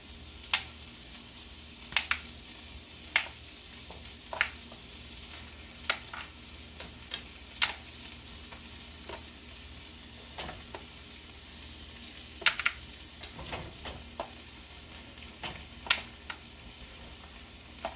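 Shrimp frying in a hot pan for a Creole shrimp and grits dish, with a steady sizzle and scattered sharp crackles and pops of spatter throughout, close up and without talk.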